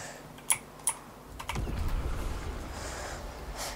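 Computer keyboard keys clatter during a Fortnite match, with two sharp isolated taps followed by a quick burst of clicks and then steady, softer typing under a low background rumble.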